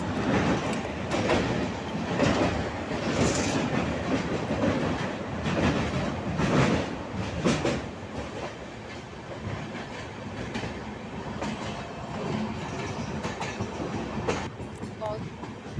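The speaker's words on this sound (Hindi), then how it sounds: "अभी हमारी ट्रेन हरिद्वार जंक्शन पहुंचने वाली है।" The Jan Shatabdi Express, on its Dehradun to New Delhi route, rolls along the rails. Close, continuous rumble and rattle with repeated clickety-clack wheel beats, heard steadily throughout.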